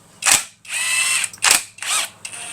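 A ratchet clicks in short bursts between stretches of a whirring power tool, close up, with brief pauses as bolts are worked loose from a Range Rover engine's cylinder head.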